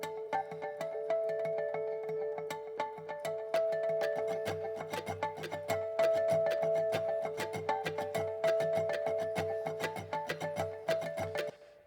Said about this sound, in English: And then he had a rhythmic dobro.